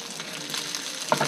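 Kimchi fried rice sizzling in a pan, a brief steady hiss of frying with a small scrape or clink near the end.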